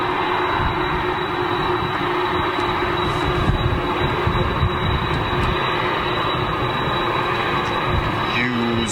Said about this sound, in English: the GE CF6 on that 747, on the Virgin 747